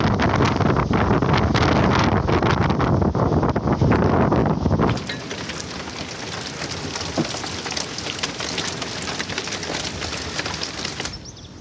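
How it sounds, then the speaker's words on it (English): Wind buffets the microphone with heavy low rumble while rain patters steadily during a cold, wet narrowboat cruise along a towpath, then the gusts ease and the rain carries on as a fine, even hiss. "it's wet, it's windy, it's cold and it's rainy, so it must be time for a cruise."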